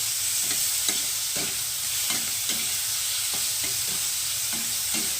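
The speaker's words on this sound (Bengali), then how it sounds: "বন্ধুরা তেলটা গরম হয়ে গেছে এবার চিংড়ি মাছগুলোকে আমি হালকা একটু ভেজে নেব" Prawns fry lightly in hot oil while being stirred, a steady bright sizzle with soft periodic scraping and stirring strokes throughout.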